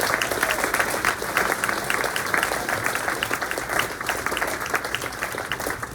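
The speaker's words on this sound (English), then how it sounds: "Let's all give him a round of applause" Audience applause for a track and field coach at a boys' banquet, a steady wash of many hands clapping that runs the whole stretch at an even, moderate level, with no voices on top.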